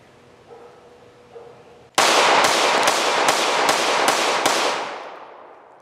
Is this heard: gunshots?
yes